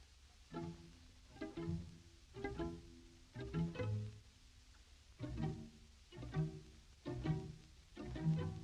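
A sneaky, tiptoeing film-music cue in a suspenseful style, built from short plucked low notes in an even stop-start rhythm, each phrase a small cluster of tones separated by brief gaps, moderately quiet and with no voice.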